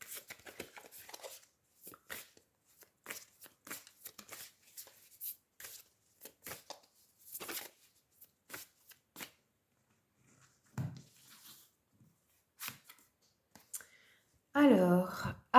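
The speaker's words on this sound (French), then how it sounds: "On va prendre une carte de l'oracle de la lunologie pour les scorpions." Oracle cards are shuffled by hand in quick, intermittent bursts of soft riffling and flicking, close and quiet, ending with a louder rustling handful of cards.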